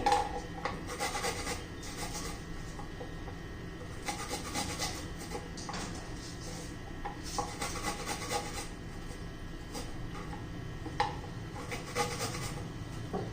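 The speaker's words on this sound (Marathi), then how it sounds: "आलं आणि लसूण किसून घेते" Ginger and garlic are rubbed against a grater for sambar, a close, quiet rasping scrape repeated in steady strokes for over ten seconds, with no talking.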